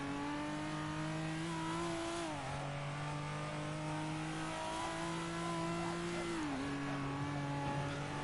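In a drifting simulator game, a drift car's engine revs hard in long sustained pulls, pitch dropping sharply twice as it shifts or lifts, with tire squeal layered over the continuous engine drone.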